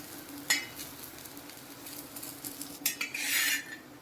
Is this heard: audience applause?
no